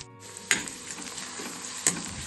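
Onion and green garlic shoots sauté in a pan for a dry brinjal dish, a steady sizzle broken by two sharp clanks of the spoon against the pan about a second and a half apart.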